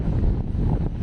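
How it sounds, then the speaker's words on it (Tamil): Strong wind on an open hilltop at Kaalimalai near Kanniyakumari, a dense low roar buffeting the microphone continuously with brief gusty dips, with no voices. "காத்து அப்படி இழுத்து தள்ளுது நம்மள."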